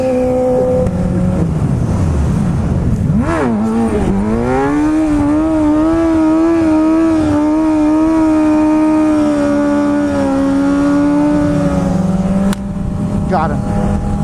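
A car engine revs hard as it accelerates through an intersection, a close, loud drone rising in pitch and then holding steady before easing off, with people talking over it.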